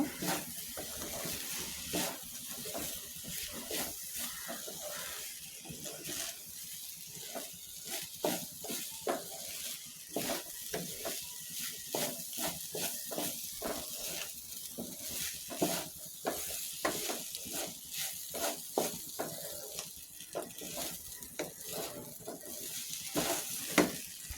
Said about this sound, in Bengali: চাউলগুলো আমি লো মিডিয়ামে ভালোভাবে ভেজে নেব।